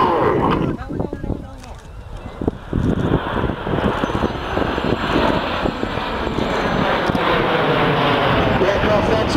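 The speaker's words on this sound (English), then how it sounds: "With 7 aircraft, we call this Short Diamond, and this is the Short Diamond Roll." Seven jet aircraft flying the Short Diamond Roll in close formation 2,500 feet overhead at 400 miles an hour, a broad loud roar that builds and holds steady under heavy wind buffeting, with a voice talking over it.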